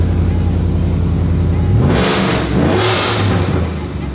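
A V8 engine in a Ford Raptor R truck idles with a deep rumble, then revs up sharply twice in quick succession before settling, close and dominant.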